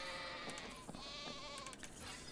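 Sheep in ARK: Survival Evolved on the Ragnarok map, several animals bleating in a dense overlapping chorus with steady game ambience beneath, fairly loud and continuous.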